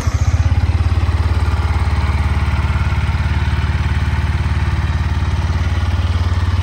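A nearly new Yamaha MT motorcycle with 471 km on it idles close by, its engine giving a loud, steady, evenly pulsing rumble with no revving.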